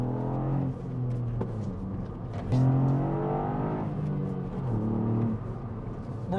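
A Ford Fiesta ST Mk8 with a 1.5-litre petrol three-cylinder turbo engine revs repeatedly, its loud, close, throaty drone climbing and falling in pitch over several surges, with a low rumble underneath and no talk.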